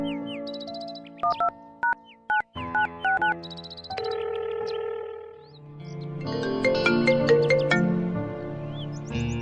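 An electronic phone ringtone plays a chirpy, bird-like melody of short repeated tones, then a fuller musical passage, loud and close with no voices.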